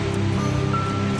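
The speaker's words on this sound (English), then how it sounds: "The water just keeps pouring in" Water pouring steadily into a flooded barn in the pig area of an animal sanctuary, where a few inches of water stand on the floor, a continuous close rushing wash with low rumble and no pauses.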